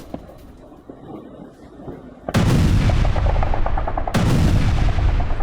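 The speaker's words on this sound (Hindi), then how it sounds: "अब यूक्रेन में रूस का क्रूज मिसाइल से वार, निप्रो के कई इलाकों में कैसे धमाके सुने गए" Explosions from Russian cruise missile strikes on Dnipro, Ukraine: after a murmur of background noise, two sudden loud booming blasts strike a couple of seconds apart, each followed by a long rumbling roar.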